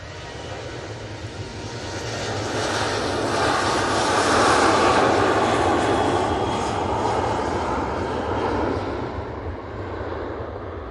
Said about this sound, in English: On final, we have the Easyjet from Belfast